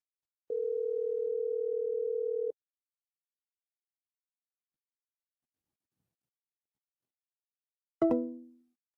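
A steady telephone dial tone hums for about two seconds while a cell phone call is placed, followed by long silence and then one short, sharp tone burst that quickly fades.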